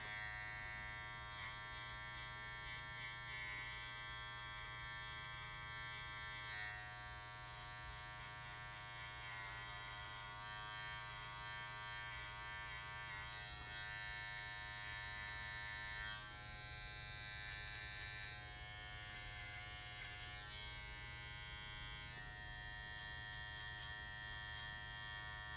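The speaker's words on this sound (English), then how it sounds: "You can hear the blade actually cutting" A UFREE electric trimmer buzzes steadily as its blade cuts hair, a continuous close, loud electric hum running unbroken throughout with slight shifts in pitch.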